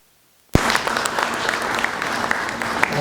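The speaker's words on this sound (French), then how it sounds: "encouragé par les applaudissements" Applause at a press conference in Congo bursts in sharply after a moment of silence, then keeps up as a steady, dense crowd clapping that carries through to the end.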